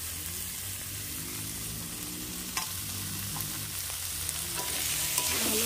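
Bengali-style tadka dal fries in a pan with spices and egg while being stirred, a steady close hiss of sizzling oil with occasional spoon scrapes and no talking.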